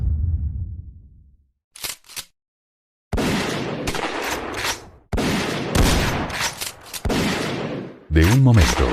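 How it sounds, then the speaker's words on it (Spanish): Several sharp gunshots crack out in bursts, loud and close, separated by short gaps, with a voice briefly heard near the end. "siendo seguido por varios disparos"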